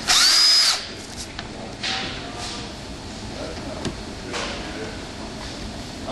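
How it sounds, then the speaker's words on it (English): A short burst of a power drill whirring as it drills the roof of an Airstream van for solar panel mounting, followed by quieter clicks, handling noises and faint movement. "I'm going to just drill them."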